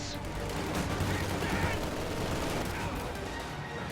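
Dense, continuous gunfire and machine gun bursts from a World War strategy game battle, a steady crackling barrage filling the whole stretch with a faint voice underneath.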